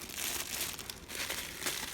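Thin plastic candy apple bag crinkles steadily and loudly up close for about two seconds as scissors cut a hole in it, with no voices.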